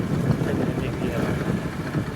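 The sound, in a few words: wind blowing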